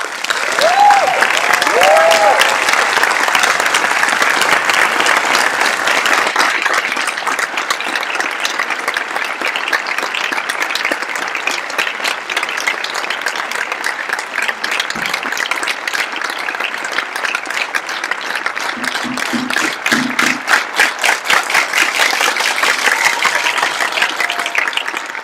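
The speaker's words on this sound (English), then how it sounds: "I want to have a really big round of applause for the 32nd board." Large assembly audience at a council general meeting giving a long, steady round of applause, dense clapping that fills the room for over twenty seconds with a few brief voices and a short cheer early on.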